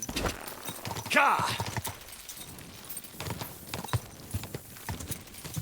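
Horse hooves in the medieval video game Kingdom Come: Deliverance II clop in a steady, rhythmic trot, close and fairly loud. Someone talks over them, and a brief snort or whinny comes early on.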